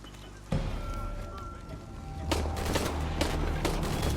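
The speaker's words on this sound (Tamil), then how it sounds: "அப்ப கன் ஃபைட் தான்டா இனிமே" Gunfire erupts in a gunfight in the game Shadow of the Tomb Raider on PS5, with bursts of sharp shots over a busy background and a rapid volley in the second half.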